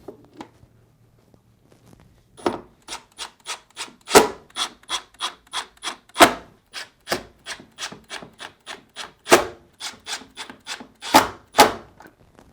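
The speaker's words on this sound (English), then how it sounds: "Install the chute plate by aligning and reinstalling the screws." Screws being turned back in to fasten the ice chute plate on a Whirlpool refrigerator, a steady series of close, dry rasping strokes that starts after a quiet moment and repeats in an even rhythm.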